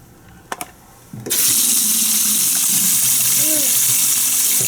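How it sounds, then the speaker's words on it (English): A hotel bathroom sink faucet turned on after a couple of brief knocks, then running hard with strong pressure in a loud, steady rush that fills the rest of the clip. "Sink's a little messed up, but seems to have pretty nice pressure."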